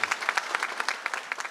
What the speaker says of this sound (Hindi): मैं आप सबसे गुजारिश करूंगा कि पुरजोर तालियों में इनको वेलकम कीजिएगा